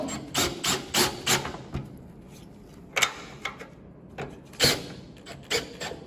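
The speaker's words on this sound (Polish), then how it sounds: "Jak zwykle proponuję przykręcić klemy bardzo delikatnie wkrętarką." Cordless screwdriver gently driving clamps onto a metal roof covering of roof tiles, trapezoidal or corrugated sheet: a series of short whirring bursts with clicks and taps between them, fairly close, with no talk.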